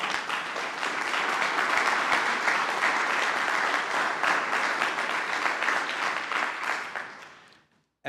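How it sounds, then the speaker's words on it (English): A crowd applauds loudly and steadily for several seconds, then the clapping thins and fades out quickly. "give yourselves a round of applause"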